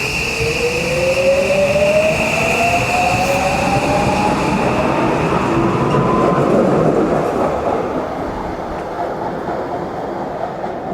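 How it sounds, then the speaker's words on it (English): A local train rolls steadily through a station in Japan, loud and close, with a rising wheel squeal and broadband rumble lasting throughout. "let's see after this train goes"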